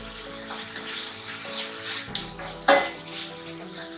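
Chopped onions for a Kerala-style egg curry with coconut milk frying in a pan, a steady close sizzle with a few clinks of a spoon or pan and one brief louder clatter.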